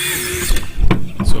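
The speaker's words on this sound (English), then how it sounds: "Mitch is cutting the jack stud now" A power saw cuts a wooden jack stud for a wall framing build, heard up close as loud, rough, whining grinding that surges in uneven pulses over a brief moment.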